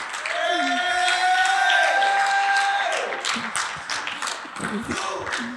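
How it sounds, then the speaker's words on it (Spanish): A church congregation breaks into applause with scattered claps and some cheering, swelling then thinning out over a few seconds amid a reverberant room. "Démosle un aplauso al Señor porque Él es bueno."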